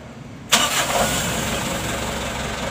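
Mitsubishi Canter truck engine catching with a sudden loud burst, then settling straight into a steady close idle that continues to the end.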